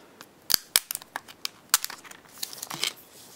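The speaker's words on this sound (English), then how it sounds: "Let's see if we can take this plastic off." Protective plastic film being peeled from a new HTC Evo 3D smartphone, a close run of sharp crinkles and crackles with a few louder snaps, heard alone.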